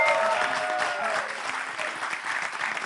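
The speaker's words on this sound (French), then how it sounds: "Applaudissez pour tous les chroniqueurs." A TV studio audience claps steadily and enthusiastically, a dense wash of applause sustained throughout, with faint voices underneath.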